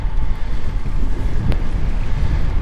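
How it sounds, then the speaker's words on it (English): Strong wind buffets a microphone outdoors in a loud, continuous rumbling roar with gusty surges, and no voices are heard. "And it actually is fairly windy right now."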